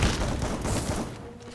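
A grenade blast in the Free Fire video game, a dense, loud rumbling burst that fills the moment and rolls off over about a second and a half.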